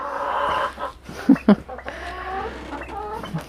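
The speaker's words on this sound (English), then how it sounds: "Chickens are escaping." Chickens cluck nearby in a farmyard, with a pair of sharp loud clucks standing out over steady low clucking and general outdoor background noise.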